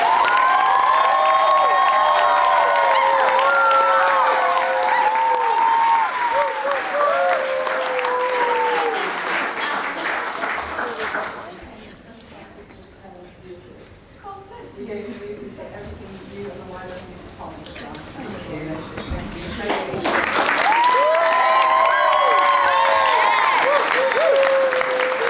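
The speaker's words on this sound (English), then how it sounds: "So a very special round of applause for Miss Marshall." A school audience with children claps and cheers loudly, fading to a quieter murmur midway before a second burst of applause and excited children's shouts rises again.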